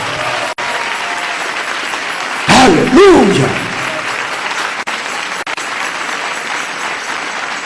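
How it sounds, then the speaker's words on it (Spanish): A church congregation applauds during a testimony service, a steady wash of claps that runs throughout; a voice calls out a short exclamation midway, briefly rising above the clapping. "Denle ese aplauso al Señor Jesús."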